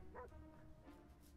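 A dog in the video game 60 Seconds gives a short bark and whimpering yip, brief and somewhat faint over a low background hum.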